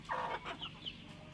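Newly bought chickens in a coop give a few soft, close clucks in quick succession, a short burst of low fowl chatter in an otherwise quiet space.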